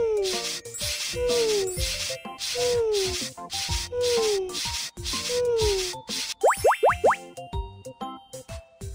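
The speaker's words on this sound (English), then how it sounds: "It's time to clean the puppy. Hey, use the brush." Repeated scratchy brush strokes on a puppy in a mobile pet-care game, each stroke a short rubbing burst set against a looping cheerful melody with sliding boing-like tones and a quick rising flourish near the end.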